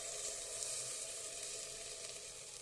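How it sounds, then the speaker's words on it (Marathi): Tomato puree frying in hot oil with onion for chicken biryani, a soft continuous sizzle that stays even and low in level, with no voices. "आता तेलामध्ये ही प्युरी चांगली भाजून घेऊया"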